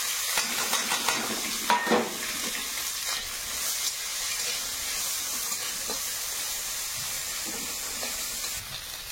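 Dry chili, black mustard seeds, onion and green chili frying in oil in a pan, giving a constant hissing sizzle with occasional utensil clinks and scrapes, close and fairly loud.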